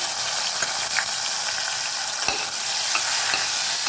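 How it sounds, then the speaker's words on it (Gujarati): Steady, loud sizzling of turmeric and tomato in hot oil in a pan, with faint stirring scrapes and small pops throughout, no voices. "આપણે અહીંયા હળદર છે એનાથી વઘાર કરીએ"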